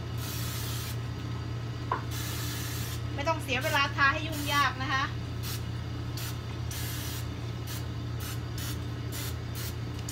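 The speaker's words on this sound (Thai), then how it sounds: "เราก็เอาไอ้เนี่ยน้ำมันเนี่ยสเปรย์เข้าไปในกระทงเลย" Cooking oil spray is sprayed into banana-leaf cups before they are filled for steamed rice cakes: a string of sharp, close hissing bursts, mostly alone, with a voice briefly heard partway through.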